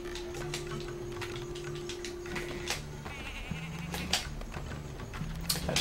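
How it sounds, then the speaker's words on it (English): Sheep bleat in the video game Tak and the Power of Juju, several short nasal calls recurring over steady game music and ticking effects. "Sheep got in the way, that's cool."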